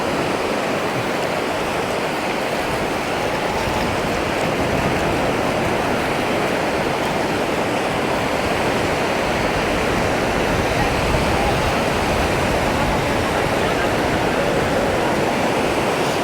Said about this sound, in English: I love the sound of the waves.